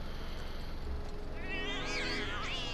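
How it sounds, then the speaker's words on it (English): Cats meow in Final Fantasy VII Remake, a few rising, wavering meows near the end over a steady background hum. "Look at all bunch of the kitties."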